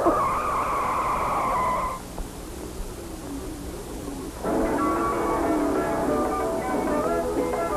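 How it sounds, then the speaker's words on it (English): Race cars launch at the start of a race, tires squealing loudly in a sustained skid that cuts out briefly, then a second burst of screeching rubber and engine noise returns and carries on to the end. "Luigi, start the race, please."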